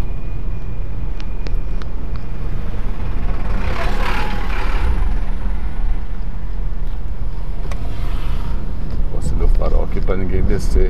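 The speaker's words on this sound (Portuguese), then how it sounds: "Agora vem mais um carro ali," A car drives past on the hill road up Ilha Porchat, a steady broadband road and engine rumble swelling near the middle, heard alongside continuous traffic noise and wind.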